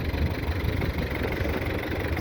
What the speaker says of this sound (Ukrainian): Трактор бистрий, звісно.